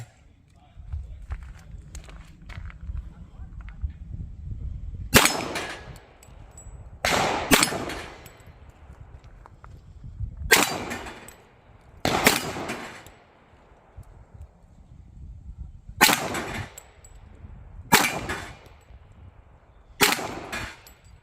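A 1911 pistol built from a Fusion Firearms kit on a PSA frame fires about eight sharp, loud shots at irregular intervals, some ringing on steel targets, with faint speech and shuffling between shots.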